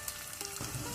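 Seven or eight garlic cloves fry in oil with popped mustard seeds for a Mangalorean wild mango upkari, a brief, fairly quiet crackling sizzle with a small stirring knock partway through.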